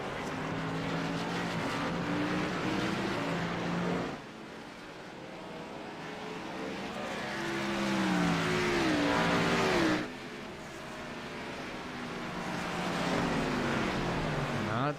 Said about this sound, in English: It looked like the field was waiting for the pace car, but then took off to catch the pace car.